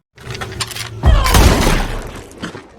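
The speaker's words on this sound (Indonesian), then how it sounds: "Salah satu dari mereka yang Bernama Marley melepaskan tembakan" A single loud gunshot-like blast with a sharp crack and a rumbling tail, rising out of steady background sound.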